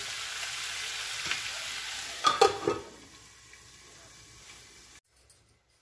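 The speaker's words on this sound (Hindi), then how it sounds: "अब हम इसमें बड़ी डाल लेते हैं बड़ी डाल के इसे थोड़ी देर और फ्राई होने देते हैं" Radish and badi fry in a pan with a soft sizzle, a few sharp clatters of stirring partway through, then the frying fades and goes nearly quiet at the end.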